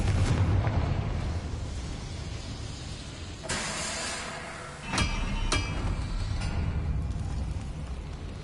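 A Confringo blasting spell in Hogwarts Legacy explodes amid a dense, noisy game soundscape, with sharp bright bursts around the middle followed by a couple of quick cracking impacts and a continuing low rumble.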